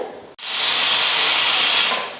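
After a brief click, a pressure cooker lets out a loud, continuous rush of hissing steam up close, slowly tapering at the end.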